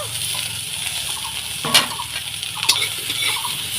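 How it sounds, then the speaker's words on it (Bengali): Carrots stir-fried in a pan with onion and ginger, a low continuous sizzle with two sharp utensil clanks against the pan. "এবার আমি গাজরটা দিয়ে দেবো, গাজরটা একটু ভেজে নেব"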